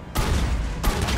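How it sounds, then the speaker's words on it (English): Two heavy shotgun blasts from a Raider shotgun in Mass Effect 3, each a loud broadband boom with a lingering tail, fired close together during combat. "I'm realizing that I need to fire a little slower. Make sure both shots actually hit."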